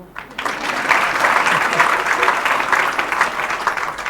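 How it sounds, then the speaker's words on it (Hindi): A group of children at a Sunday satsang claps together after a brief quiet start, a dense, steady round of small hands clapping at moderate loudness until the end. "भले ताली बजाओ"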